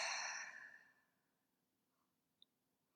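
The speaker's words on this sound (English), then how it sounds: "And just start breathing deeply." A single deep, audible exhale during a seated meditation, a soft breathy rush that fades over about a second into near silence, followed by a tiny click.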